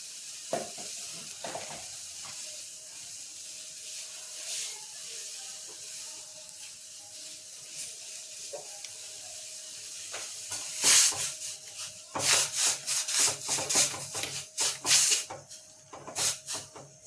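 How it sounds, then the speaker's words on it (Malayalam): Tea powder is brought to a boil in a pot, heard as a soft steady hiss with occasional light knocks, building into louder bursts of bubbling and sizzling over the last several seconds. "എന്നിട്ട് നന്നായിട്ടൊന്ന് നമ്മൾ തിളപ്പിച്ചെടുക്കുക."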